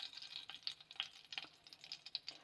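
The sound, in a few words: mustard seeds spluttering in hot oil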